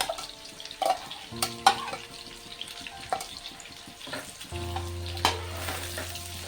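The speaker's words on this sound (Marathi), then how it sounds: "मी आता हा कांदा आहे तो टाकून घेते. हा छान डार्क ब्राऊन होईपर्यंत भाजून घेणार आहे." Chopped onion dropped into hot oil in a pan for a green chicken curry, sizzling and frying close up with occasional stirring clatters and a brief tap-water rush, no voices.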